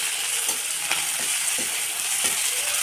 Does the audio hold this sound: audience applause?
no